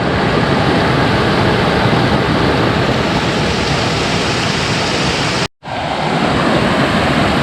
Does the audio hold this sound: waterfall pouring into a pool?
yes